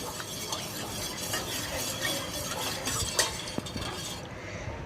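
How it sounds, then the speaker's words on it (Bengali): A spoon stirs sugar into a lemon ginger drink, giving a continuous swishing churn with light clinks against the glass, fairly close and steady, with no talk. "ভালো করে নাড়ব।"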